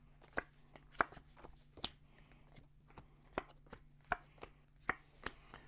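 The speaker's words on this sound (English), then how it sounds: "I'm going to deal 2 cards face up to every player" Playing cards for the game Whispers dealt face up onto a table, a series of sharp, separate slaps and taps at an uneven pace, close and fairly quiet over a soft background hum.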